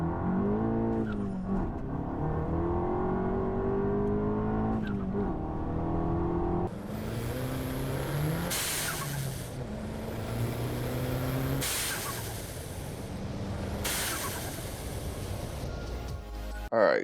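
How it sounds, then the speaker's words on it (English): A turbocharged 2021 Volkswagen Jetta GLI engine revs and drops, punctuated by several loud, sharp whooshing hisses from the blow-off valve between pulls. "you're gonna get that notorious whoosh, that turbo sound that everybody loves."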